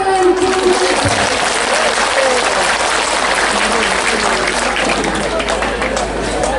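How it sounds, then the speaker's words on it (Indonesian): An audience at an Islamic religious talk bursts into loud, continuous applause, a dense crackle of many clapping hands mixed with crowd murmur and some voices underneath. "Tepuk tangan"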